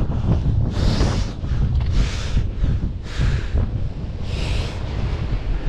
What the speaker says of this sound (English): It's really fucking windy.